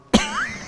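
A single sharp cough, close and abrupt, followed by a brief ringing tail, with no talking.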